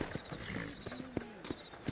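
Horses in the video game Red Dead Redemption, set around New Orleans, clip-clop with steady, close hoofbeats, a faint whinny mixed in among background game ambience.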